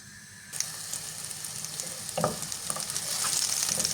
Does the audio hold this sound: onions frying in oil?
yes